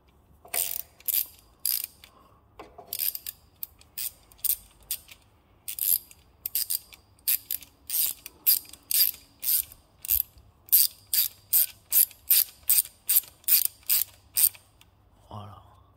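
A ratchet wrench tightens the oil sump bolts on a Citroën C4 1.6 HDI engine during a sump gasket repair. Rapid bursts of close, crisp clicking repeat over and over, separated by short pauses.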